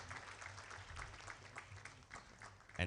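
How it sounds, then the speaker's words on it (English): Conference audience at a clean air event giving a round of applause, a sustained even clatter of many hands clapping, moderately distant and fairly faint, with no talk over it. "Can you please give a hand of applause?"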